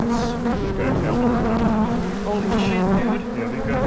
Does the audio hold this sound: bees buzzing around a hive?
yes